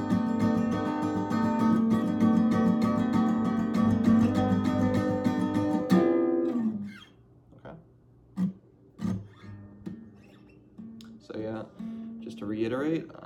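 A guitar plays the strumming pattern of a song in a dense, continuous run of strums, then breaks into sparse hard strums and sliding stops, close and fairly loud.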